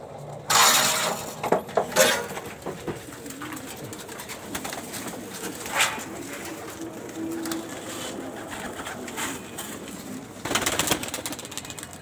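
Domestic pigeons coo softly at a rooftop loft while a net is pulled in, under rustling, a few sharp knocks and scraping bursts, with no talk.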